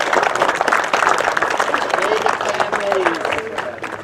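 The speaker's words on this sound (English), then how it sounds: "The families, please, let us give you an applause." Applause from the audience at a Layton City veterans honors ceremony in Utah, given to veterans' families; dense clapping fills the hall steadily, with crowd voices mixed in.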